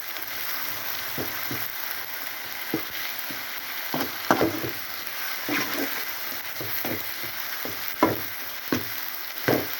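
Ginger garlic paste sautés in a pan for dalcha, a soft steady sizzle punctuated by repeated scraping strokes and spoon taps at an uneven pace, close by and without speech.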